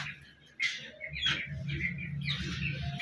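Chicks peep in short, high, bright calls that come in scattered bursts, close and fairly faint over a low background hum.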